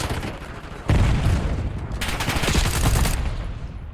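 A grenade blast and bursts of gunfire in the Black Ops 6 video game, a sudden loud explosion followed by rapid, dense volleys of shots in close succession.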